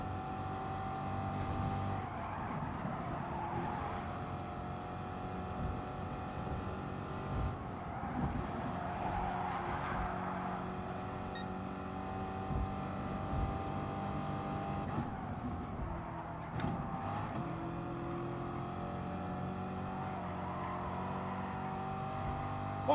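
Chevrolet Corvette race car in Gran Turismo Sport, its engine droning steadily and loud throughout, with pitch rising and falling as it accelerates and brakes for corners.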